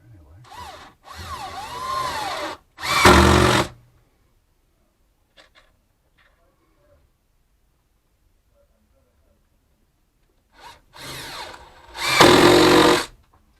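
A power drill drives screws into wood in several short, loud whirring bursts, a cluster at the start and another near the end, separated by a long stretch of near silence.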